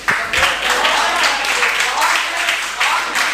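A poetry open-mic audience applauds in a steady, dense wash of many hands clapping, loud and close, sustained throughout.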